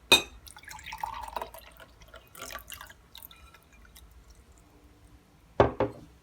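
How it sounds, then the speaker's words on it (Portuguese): Water poured into a glass for a simple mixing demonstration, with a few soft trickles and drips early on and a louder splash of pouring near the end, heard alone without talk. "Então vamos colocar a água aqui no copo."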